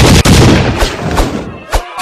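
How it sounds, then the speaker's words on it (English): Gunfire in the video game Grand Theft Auto, a burst of several loud, sharp game gunshots in quick irregular succession over a noisy backdrop. "Quick, shoot the noob!"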